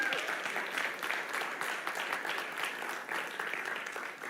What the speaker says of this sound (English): Give Mohammed another round of applause.